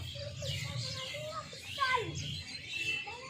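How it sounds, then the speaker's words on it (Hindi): Birds chirp and twitter on a house rooftop in quick, bright bursts, mixed with a low murmur of voices in the background. "तो यहाँ पे छत पे चिड़ियाँ बहुत ज़्यादा शोर करती हैं, तो आवाज़ में आप लोगों को भी सुनाई देगा।"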